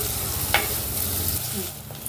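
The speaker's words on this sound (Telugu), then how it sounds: "ఈ ఉల్లిపాయల్ని ఒక 2 నిమిషాలు ఫ్రై చేసుకుందాం" Sliced onions frying in hot oil, a continuous close sizzle with a sharp scrape of the spoon early on and softer stirring after.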